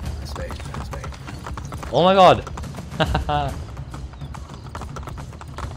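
Horse hooves clip-clop in the Assassin's Creed: Brotherhood video game, a steady soft beat running under the whole stretch while a man exclaims loudly partway through.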